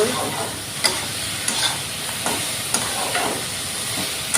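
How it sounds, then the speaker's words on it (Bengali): Dudh kochu (taro) and spices being sautéed in a pan, with a steady loud sizzle and hiss broken by periodic scraping stir strokes roughly every second. "সবগুলো একসাথে কষায় নিতেছি, ভালো করে কষায় নিব।"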